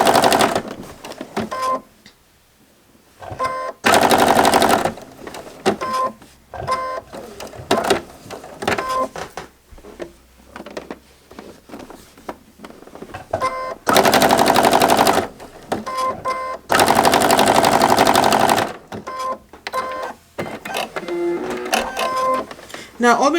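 Sewing machine stitching around the edge of a beginner's quilt, several loud sustained runs of rapid mechanical whirring separated by pauses, with a person talking in between.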